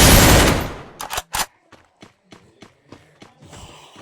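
Gunfire in the mobile shooter Free Fire MAX rings out as a loud burst, then a few sharp close shots followed by lighter, evenly spaced footstep-like taps.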